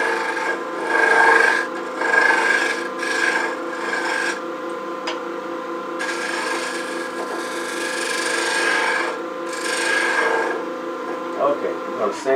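A skew chisel is held flat as a scraper to smooth tool marks from a recess in a piece of wood, likely turning on a lathe. It makes a steady, close rasping scrape that swells and eases in long strokes.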